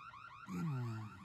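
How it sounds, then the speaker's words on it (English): Car alarm in the video game There Is No Game, a loud rising and falling electronic siren tone that swells up midway and holds steady to the end. "Why would it set off the alarm?"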